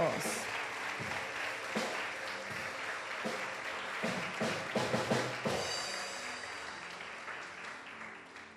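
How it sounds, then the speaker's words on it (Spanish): Congregation at a Spanish-language church service clapping together, a dense, sustained applause filling the room under ongoing voices, with some sharper individual claps standing out. "¿Cuántos pueden darle un fuerte aplauso a Dios?"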